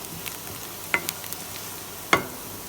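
Onions frying with a sprinkle of salt in a pan: a low, steady sizzle broken by two sharp scraping strokes about a second apart, close and without speech.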